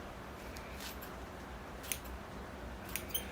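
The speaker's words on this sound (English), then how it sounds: "I will be trimming the roots because I don't want it that deep." Scissors trimming the roots of a bonsai plant in a northern bog forest planting, giving a few faint, quick snips spaced apart over a soft background hiss.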